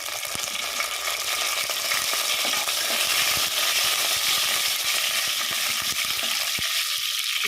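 Cumin, mustard seeds and curry leaves fry in hot oil for semiya upma, giving a dense, close, continuous sizzle with scattered tiny crackles and pops and no voices.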